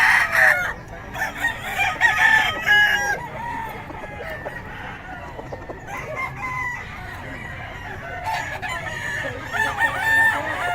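Roosters crow repeatedly and chickens cluck at a busy poultry market in Bocaue, the calls overlapping near and far, with faint voices in the background.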